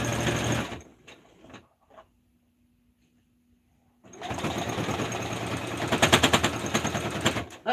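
A sewing machine without its walking foot stitches through a thick blanket: a short burst of rapid mechanical stitching, a quiet pause with a faint hum, then a longer, loud, close run of fast chattering stitches.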